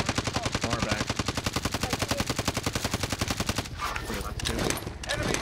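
Gunfire in Call of Duty Cold War Warzone: a loud, sustained rapid automatic burst that hammers on for several seconds, then breaks into scattered shots near the end.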